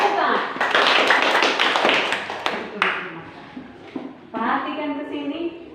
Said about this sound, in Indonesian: mari kita sambut teman kita dengan tepuk tangan